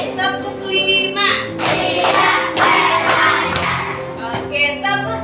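A classroom of pupils claps hands together in a counted pattern, bursts of clapping rising between stretches of background chatter and a teacher's voice.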